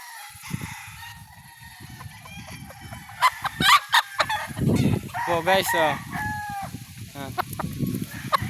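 Gamecock roosters crow and cluck close by, several calls overlapping in bursts, with someone speaking briefly at the start.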